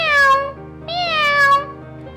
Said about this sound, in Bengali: জাদু বলে পরী থেকে একটা কালো বিড়ালে পরিণত হয়